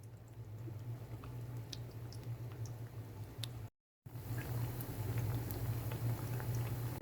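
Pakora batter frying in hot oil over a medium-low flame, a steady crackling bubble with scattered pops, continuous apart from a brief dropout midway.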